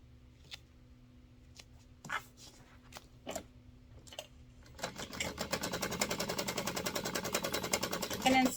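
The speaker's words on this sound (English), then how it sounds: "Make sure you back stitch at the beginning and end." A sewing machine runs in a steady rapid stitching rhythm from about the midpoint, back stitching a seam while making card slots, loud and close after a few quiet handling taps and brief speech earlier.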